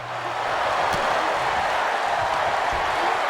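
A video game wrestling arena crowd in WWE 2K22 roars in a steady, dense wash of cheering that swells in the first half second and then holds loud and unbroken.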